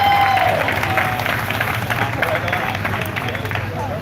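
A crowd at an outdoor protest at the Oregon Capitol claps, with scattered hand-clapping and crowd murmur running steadily under people talking nearby.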